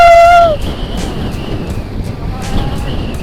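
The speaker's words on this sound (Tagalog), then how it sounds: "Taas ng hangin!" Strong wind sweeping across a mountain, a steady broadband roar of gusts buffeting the microphone after a brief high whistle at the start.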